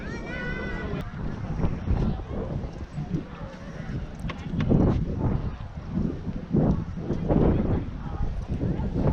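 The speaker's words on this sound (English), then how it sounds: "It's a little windy, so hopefully you can hear me." Gusty wind roars across the microphone at Castillo de San Marcos fort in St. Augustine while a person talks over it, the blustery rumble rising and falling.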